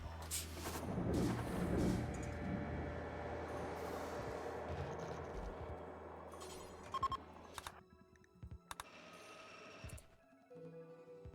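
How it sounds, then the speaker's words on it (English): An explosion rumbles in the colony-building video game Rimworld, a heavy, sustained low roar that slowly fades into quieter sparse thuds and clicks. "Like there was an explosion or something."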